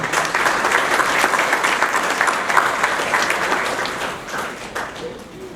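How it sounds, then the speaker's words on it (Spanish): Audience applause at a corporate internal-audit event in Peru as a speaker is welcomed, a thick continuous round of many people clapping, steady and fairly loud before tapering slightly at the end. "Recibámoslo con un aplauso, por favor."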